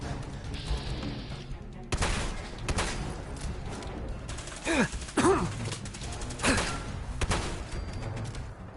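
Shotgun blasts and gunfire from combat in the video game Fallout 4, a series of loud, punchy bursts over continuous game noise and mechanical clatter, with several sharp whooshing impacts in the middle.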